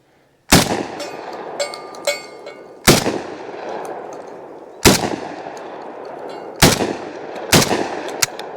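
Five loud, sharp blasts spaced a second or two apart from a Panzer Arms AK Twelve semi-automatic shotgun firing 7.5 shot shells at a range, each followed by a ringing decay and faint metallic clinks, with no talking.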